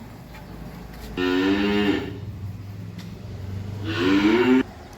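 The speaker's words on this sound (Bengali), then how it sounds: "এই বকনাটার বয়স নয় মাস বয়সের একটা হলিস্টেন ফ্রিজিয়ান বকনা বাছুর" A nine-month-old Holstein Friesian heifer calf on a cattle farm in Comilla gives two drawn-out, tonal moos a couple of seconds apart, fairly close, over a low steady engine-like hum.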